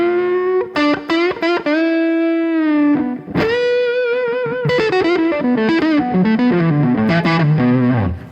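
Electric guitar played through a TC Electronic Hall of Fame reverb set to the Neon Blues TonePrint: distorted bluesy phrases with held bends and quick runs, each note trailing a lush wash of reverb.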